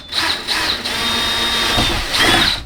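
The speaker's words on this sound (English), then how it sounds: "I need to drill the pilot hole in the center all the way through" A power drill whirs steadily at close range, drilling a pilot hole through a box truck sliding door, its high motor whine rising and dipping slightly as it bores through material.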